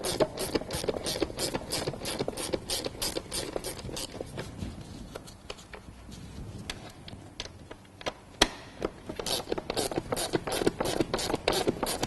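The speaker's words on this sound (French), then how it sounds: "je me prends un petit cliquet avec un embout Torx de T27 pour dévisser les vis Torx" Rapid clicking of a small ratchet with a Torx T27 bit turns out Torx screws on a Renault Kangoo, close and steady, with sharp ticks in quick bursts and a slower patch midway.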